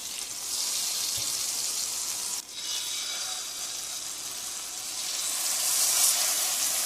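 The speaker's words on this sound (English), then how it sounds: "In a pan of hot butter, the fillets are seared" Salmon fillets sear in a pan of hot butter, giving a steady, even sizzle that holds close and loud for the whole stretch, with no voices over it.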